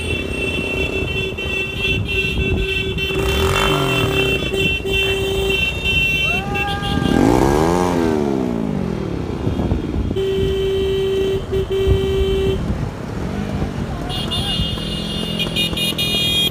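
Motorcycles at a bike rally, among them a modified NS200, Duke 390, Pulsar 150 and Honda Hornet, honk with steady repeated horn blasts while engines rev and surge through the middle, loud and close, with voices in the background.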